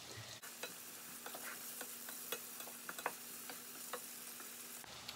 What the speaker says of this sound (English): I'm gonna go ahead and let this saute a little bit